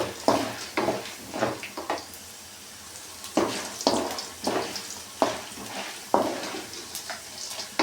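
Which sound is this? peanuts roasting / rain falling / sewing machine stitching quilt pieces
peanuts roasting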